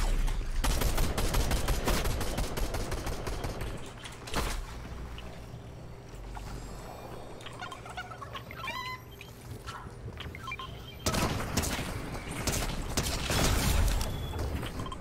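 Video game gunfire crackles in dense, repeated bursts through a loud, busy mix, dropping back for a few seconds before the shooting surges again near the end.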